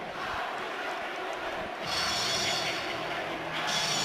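Crowd noise from spectators at a high school hockey semifinal, North Branford against Fairfield Warde, a steady broadband roar that swells louder partway through and stays sustained with no talk over it.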